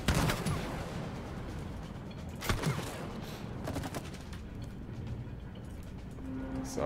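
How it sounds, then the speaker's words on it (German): Gunfire in the video game It Takes Two, a steady wash of rapid shots running throughout with a sharper loud burst near the middle, with no talk over it. "So, haben wir wieder 3 Schüsse."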